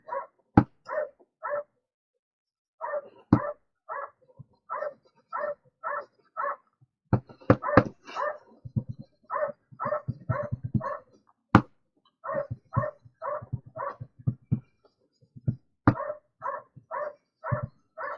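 Dogs bark repeatedly in short sharp bursts, loud and close, with rhythmic volleys of yaps and woofs continuing for many seconds and only brief pauses between them.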